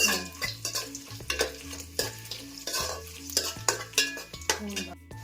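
Cashews and raisins fry in a pan and give a soft sizzle, while a spoon stirs and scrapes in repeated rhythmic strokes against the metal, close and moderately quiet, with no talking.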